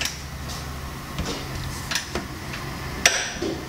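A torque wrench tightens a camber kit bolt on a car, with faint ratcheting ticks and handling noise, then one sharp, crisp click near the end as it reaches its set torque.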